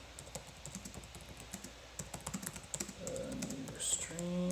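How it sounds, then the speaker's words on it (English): Rapid clicking of computer keyboard keys being typed on, irregular bursts of keystrokes up close, with a faint voice and some background noise near the end. "So I'm going to type that in for everyone who's watching."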